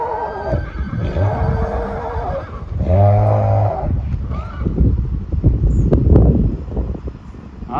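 A horse being led out on a farm gives a loud, close neigh in the middle, with breathy snorts, a shorter whinny later and wind noise over the microphone.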